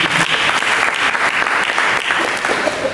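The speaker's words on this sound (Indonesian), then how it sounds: "Mari kita berikan tepuk tangan bagi Yesus." A church congregation applauds during a worship service, a dense, steady wash of many hands clapping at close range that fills the moment from start to finish without letting up.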